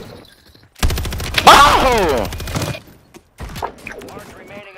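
Rapid bursts of automatic gunfire in a video game shooter match, loud and close, with a voice shouting over the shots before a short pause and a few more scattered shots.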